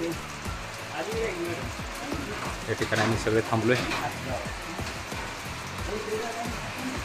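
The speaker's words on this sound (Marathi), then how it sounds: "मोठा पाऊस सुरू झाला आहे" Heavy rain hisses steadily on a roadside shed, with scattered pattering drops throughout, while someone speaks over it.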